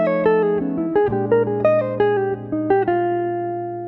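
A jazz guitar line plays alone, a quick run of clear, separate single notes with some chromatic slipping between phrases, moderately loud and close, its last note ringing out.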